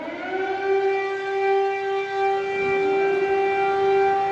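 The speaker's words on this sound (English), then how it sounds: "So there's the siren." Air raid siren wailing at a Ukrainian power station, a steady rising tone with strong harmonics that holds continuously, loud and sustained throughout.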